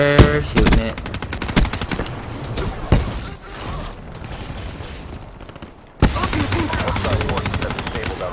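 Rapid automatic gunfire in the Black Ops 3 video game, dense bursts of loud shots with a brief lull near the end before firing resumes hard, mixed with game sound effects and an in-game announcer voice.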